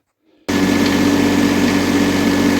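A GAB-4 generator converted to diesel fires up after a brief faint rattle and settles into a loud, steady, close-up idle with an even mechanical drone and vibration that holds unchanged to the end.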